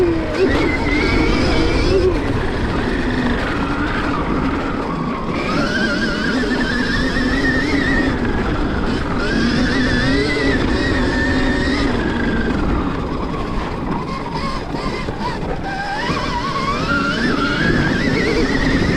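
A Stark Varg electric motorcycle pulls hard through rough off-road sections, its electric whine rising and falling as the rider accelerates. Loud, constant rumble and rattling run throughout.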